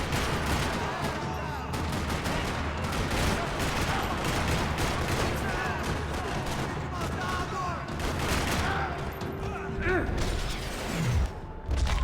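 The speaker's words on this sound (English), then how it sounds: "Another parking lot rattling with gunfire." Sustained gunfire rattles through a parking lot in Max Payne 3, dense overlapping bursts of automatic and single shots with mechanical clatter, loud and continuous, ending in a brief falling tone.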